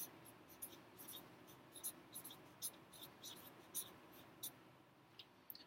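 Handwriting during a percent-of-a-number math lesson as steps are written down: a soft, scratchy stroking repeats in short, irregular bursts, faint and close, with no talking.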